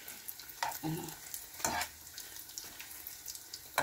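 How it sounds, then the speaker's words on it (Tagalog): Sardine omelet frying in a pan sizzles softly and steadily, with occasional scraping and stirring clicks close by. "Dito ko na rin iprito ang ating sardines omelet."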